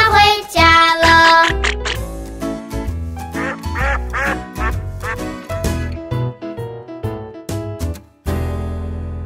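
Cartoon duck quacks in a children's counting song, repeated sharp quacks bouncing in rhythm over a bright, loud musical backing with no spoken voice.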